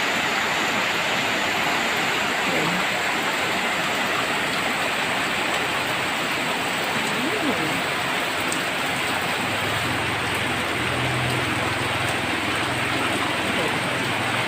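Heavy rain pours down in a dense, continuous hiss, with a faint low hum rising briefly near the end.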